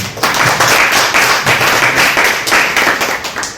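Loud, dense clapping from an audience at an indoor foundation event honoring a guest, steady and close throughout the few seconds with slight rhythmic surges.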